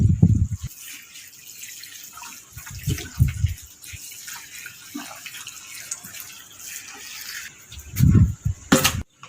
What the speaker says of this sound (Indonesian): kita siram terlebih dahulu.